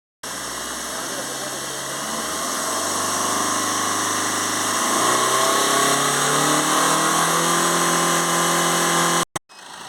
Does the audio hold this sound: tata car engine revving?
yes